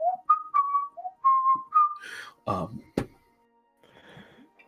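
A voice whistles a short run of sliding notes imitating a magical glaive's humming whistle, followed by a few thumps and a sharp knock, then quiet rustling.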